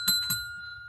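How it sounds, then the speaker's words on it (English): Two sharp rings of a bell, close together and clear, each leaving a sustained high metallic tone that hangs on quietly afterward over a low background hum. "That was a bad bell."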